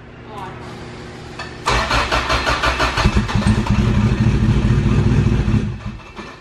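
A sleeved Honda GSR B18 engine cranking on a weak battery, a quiet opening giving way to a loud rhythmic starter churn that briefly catches into a rougher, fuller engine rumble before dropping away, with people talking nearby.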